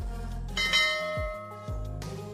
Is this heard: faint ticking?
no